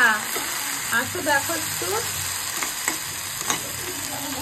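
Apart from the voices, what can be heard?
jute leaves frying in a pan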